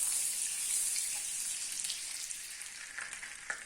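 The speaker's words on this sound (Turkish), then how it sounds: "Bir yemek kaşığı tereyağımızı ilave edip kavuruyoruz." Butter and olive oil sizzle in a hot frying pan, giving a close, steady crackling hiss with occasional small pops, and no voices over it.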